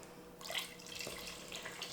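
About three cups of water pour into a cooking pot holding crushed tomatoes and a bouillon cube, a soft steady splashing stream heard alone.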